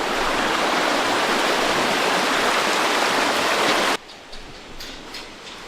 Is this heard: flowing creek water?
yes